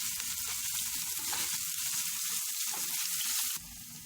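Ginger garlic paste frying in a pan, a steady close sizzle with faint low stirring underneath, dropping slightly in level near the end.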